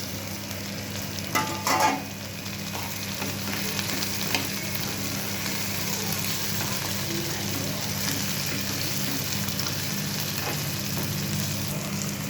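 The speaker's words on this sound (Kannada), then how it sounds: "ನೋಡಿ ಈಗ ಎಣ್ಣೆಯಲ್ಲಿ ಫ್ರೈ ಮಾಡ್ಕೊಂಡಿದ್ವಲ್ಲ ಹಾಗಲಕಾಯಿ ಹಾಕ್ತಾಯಿದ್ದೀನಿ" Bitter gourd frying in oil in a pan, a low, steady sizzle with a few louder clatters of stirring near the start, close and continuous without speech.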